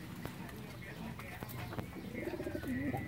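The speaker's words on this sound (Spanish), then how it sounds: "está ahí la paloma." Pigeon in a nest box giving soft low coos near the end, faint under a nearby voice speaking Spanish and some handling noise.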